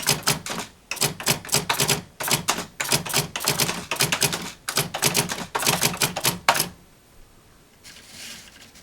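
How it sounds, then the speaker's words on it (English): An electric typewriter typing in its plain typewriter mode: rapid bursts of crisp key strikes in uneven runs for about six and a half seconds, close and loud, then stopping, leaving a faint hum. "It's just an electric typewriter in this mode."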